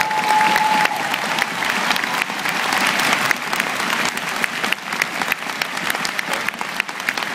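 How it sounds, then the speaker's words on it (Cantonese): A concert crowd at a farewell show applauds loudly and continuously, dense clapping from a large audience filling the space with a few brief shouts mixed in. "再俾一次熱烈嘅掌聲啊"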